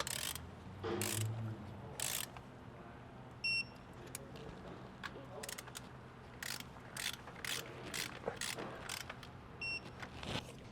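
Torque wrench tightening bolts on a fuel return system for a Nissan 350Z VQ35DE engine, a few faint mechanical clicks and ratcheting ticks scattered among quiet handling noises.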